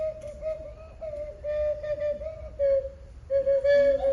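A whistle flute plays a simple melody in sustained, slightly wavering notes with short breaks between phrases, clear and close.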